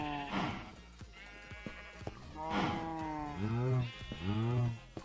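Cows lowing on a video game farm, several drawn-out moos and bleat-like calls close by, spaced irregularly with short quieter gaps between them, no talk.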